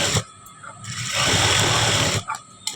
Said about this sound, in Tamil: நெக்ஸ்ட் சைடு நான் தைக்கிறதுக்கு காமிக்கிறேன்